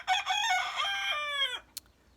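A single rooster crows a long, loud cock-a-doodle-doo nearby, its call stretching out and fading, followed by a brief sharp click.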